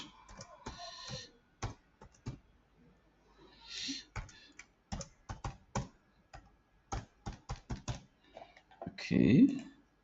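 Fingers type a password on a computer keyboard while logging into a web hosting account: bursts of quick, close clicking keystrokes broken by short pauses, with a person talking in between.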